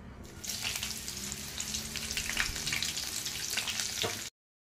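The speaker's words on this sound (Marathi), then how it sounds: "छान हे बघा मिरची तळून झालेली आहे." Green chillies frying in hot oil for corn chivda hiss and crackle steadily and loudly up close, a dense continuous sizzle with no voices, ending abruptly.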